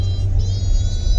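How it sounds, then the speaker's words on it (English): An army vehicle rolls past on the road, a loud, close, continuous low rumble with a steady whir above it, heard alone without talk. "Look at that army vehicle."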